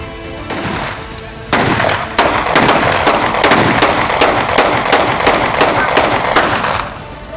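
Gang members fire pistols in a long burst of rapid, overlapping gunshots that crack loud and close over a steady background din for several seconds.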